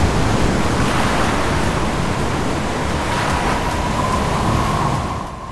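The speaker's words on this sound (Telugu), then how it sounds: "తుఫాను మాదిరిగా అలలు ఎగిసి పడుతున్నాయి" Stormy sea waves crash and surge at Om Beach in Gokarna, Karnataka, making a loud, continuous roar of surf that holds steady throughout with no voices.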